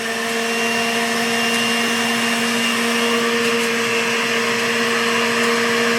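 An electric juicer grinds cucumber through alongside a batch of vegetables, a loud, steady motor whine with a strong humming drone that holds unchanged throughout.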